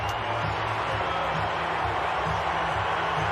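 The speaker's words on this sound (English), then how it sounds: "it's universal applause from the crowd" Crowd at a Knights v Raiders NRL rugby league finals match, a dense, steady roar of applause and cheering filling the stands throughout.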